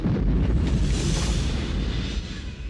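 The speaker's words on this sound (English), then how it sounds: "That explosion next door is a little early tonight." A low, rumbling boom from an explosion next door, muffled and heard from a distance, swells at the start and then slowly fades away.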